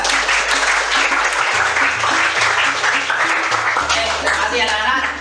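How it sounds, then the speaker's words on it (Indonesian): Classroom of students applauding together, loud continuous clapping over a low steady hum, filling the whole stretch before easing slightly at the end. "Oke, tepuk tangan juga."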